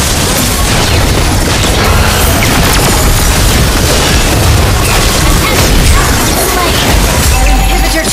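A turret blown up in the Mobile Legends video game, a loud booming crash buried in dense, nonstop battle noise with voices calling out.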